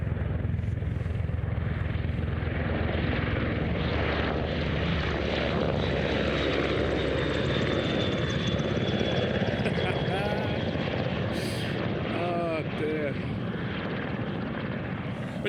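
A helicopter's loud, steady rotor and engine drone roars continuously, staying close as it passes overhead on Salisbury Plain.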